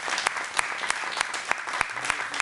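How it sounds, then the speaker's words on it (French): Concert audience applauding at the start of a live show, a steady close wash of many hands clapping with a few sharper individual claps standing out, no voices over it. "Merci pour les applaudissements."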